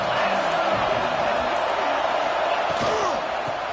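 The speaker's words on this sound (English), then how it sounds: "This crowd ready to make its presence known." A packed football stadium crowd at a Miami versus Notre Dame game, with a loud, continuous roar and cheering holding steady throughout.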